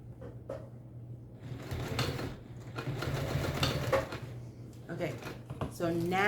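A sewing machine stitches vinyl at a 3.5 to 4 stitch length, its motor whirring steadily with rhythmic needle clatter, near and moderately loud, rising toward the end, with a brief voice at the close.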